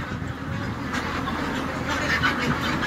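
Ducks on a large farm in Hau Loc, Thanh Hoa, quack in a dense continuous chorus, many birds calling at once at close to moderate range with overlapping honks.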